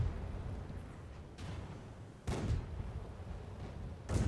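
Tank guns fire in World of Tanks, three sharp cannon blasts spaced about a second or two apart over a low rumbling battlefield backdrop, each shot cracking loud then decaying.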